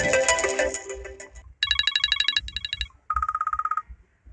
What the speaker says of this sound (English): it has many of ringtones and it's also tiny ringtones also for your notifications or messages